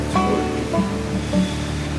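Salted water bubbles and churns steadily at a rolling boil in a pot, a continuous rushing hiss with small pops, heard close and without any talking.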